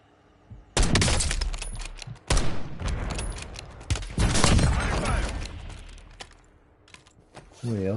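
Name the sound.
gunfire in Call of Duty video game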